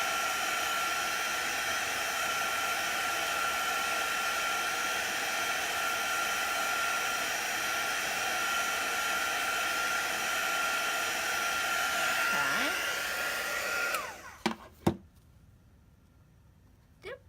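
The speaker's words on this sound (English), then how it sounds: "And then I'll just take my heat gun." Heat gun drying paint on a canvas, a loud steady whirring blast of air that runs continuously before cutting off near the end, followed by a few knocks and brief quiet.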